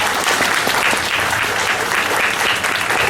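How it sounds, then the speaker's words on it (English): Dense, sustained applause from an assembly crowd at a Teacher Day event, clapping for the children with even intensity throughout, close and loud with no talking over it. "let's give them also a big round of applause."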